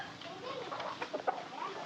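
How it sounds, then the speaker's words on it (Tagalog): Chickens at a house giving a few soft, short clucks at close range over quiet background murmur. "May mga manok dito."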